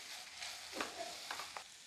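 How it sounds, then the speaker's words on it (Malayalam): Goat boti (goat intestine) fry sizzling steadily in a pan, a soft continuous crackle with a few brief stirring scrapes, close and moderately quiet, with no talking. "നമ്മുടെ ബോട്ടി ഫ്രൈ ആയി വരുന്നുണ്ട് കേട്ടോ."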